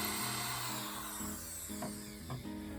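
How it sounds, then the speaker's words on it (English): A hand drill drives screws through pilot holes into wooden baseboards for a rustic cake stand, a close whirring motor with several short bursts and pauses, joined by brief higher grinding spurts near the end. "using a hand drill through the original pilot holes down into the baseboards."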